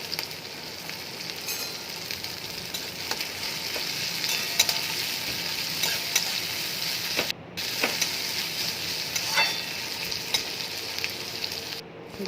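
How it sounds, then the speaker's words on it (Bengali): Chopped onion and green chili frying in oil, a continuous close sizzle with scraping stirs and occasional clicks of the utensil against the pan, briefly cutting out twice. "পেঁয়াজ আর কাঁচা লঙ্কা কুচি দিয়ে ভালোভাবে ভেজে নেব"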